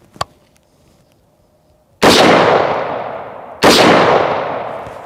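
Two sharp, very loud rifle reports from a 7.62x51mm (.308) round fired at AR500 steel body armor, each cracking suddenly and decaying over more than a second, spaced about one and a half seconds apart after a faint click.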